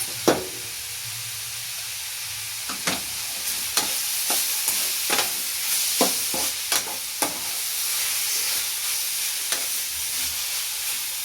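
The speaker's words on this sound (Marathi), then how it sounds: "आणि सर्व असं मिक्स करून घ्यायचं आता आपल्याला." Radish curry with onion-garlic masala frying in a pan, a continuous gentle sizzle broken by repeated clicking, scraping stirs at an irregular pace, close up with no talking.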